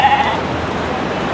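A sheep on a Uttarakhand mountain meadow gives one short, close bleat over steady outdoor background noise.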